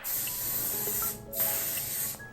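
Two short bursts of Moroccanoil heat protectant mist are sprayed onto hair, a close, steady hiss of fine aerosol with a brief pause between sprays.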